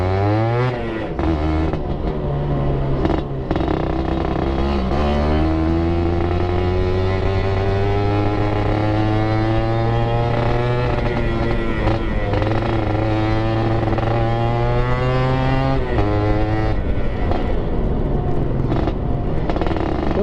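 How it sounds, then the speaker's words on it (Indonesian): Suzuki Satria 120R motorcycle fitted with an aftermarket exhaust, riding in traffic: loud, close engine drone that rises and falls through gear changes, with rhythmic revving and steady exhaust note filling the whole stretch. "Kalian dengerin dari suara aja guys ya, untuk knalpot enak apa enggak."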